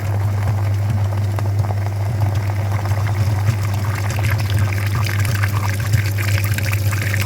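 Water flushing through the heater radiator of a Chevrolet Aveo during a cooling system flush, a steady close pouring and trickling wash over a constant low engine hum, with no talking.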